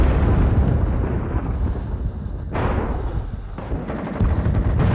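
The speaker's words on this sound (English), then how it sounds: "when this artillery lands near me" Rising Storm 2: Vietnam artillery shells land close by in a heavy, rumbling barrage, with a sharp, loud blast partway through and further booming impacts rolling on afterward.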